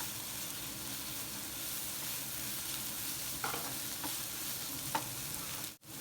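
Broad beans frying in oil in a pan, a steady soft sizzle with a few light stirring clicks, fairly quiet and continuous, with no voices.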